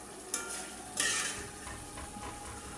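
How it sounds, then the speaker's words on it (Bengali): Salted hilsa fish frying with onion and garlic gives a steady, moderate sizzle in a pan, with two brief louder bursts of stirring or scraping near the start and no talking. "লবণের ইলিশ ভুনা"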